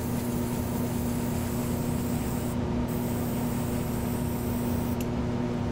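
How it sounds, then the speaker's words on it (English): Airbrush spraying Black 2.0 paint at 40 PSI, producing a steady close hiss with a constant hum underneath that continues throughout. "it's just totally clogging up my airbrush again. I'm running 40 PSI here"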